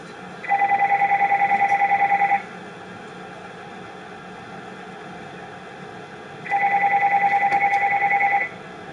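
A telephone rings in two long electronic bursts, each about two seconds of rapid warbling trill, separated by a few seconds of quiet room tone; fairly close and clear, with no talking.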